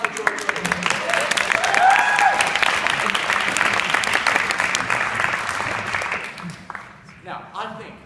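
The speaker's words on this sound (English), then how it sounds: "Round of applause for George" An audience at a comedy talk applauds loudly, a dense wash of clapping that holds steady for several seconds before thinning out, with a voice emerging near the end.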